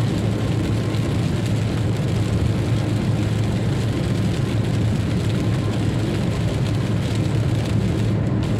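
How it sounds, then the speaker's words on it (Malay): Steady rain hiss on a car while driving a new, rough concrete toll road near Rangkasbitung, a broad continuous wash with low road and engine rumble throughout, no talking. "Lagi hujan suasana."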